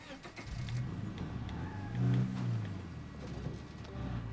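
A car engine in the State of Decay 2 video game starts and revs as the vehicle pulls away, a steady mid-low motor drone swelling midway and holding at moderate loudness with faint background game sounds.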